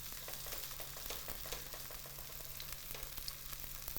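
Zucchini fritters fry in a hot pan with a steady, close sizzle and occasional small pops, continuous and alone without talk.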